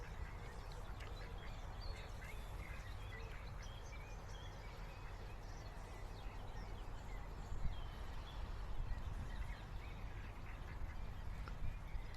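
A duck quacks repeatedly at a distance over a steady, noisy outdoor background; the calls are faint and scattered.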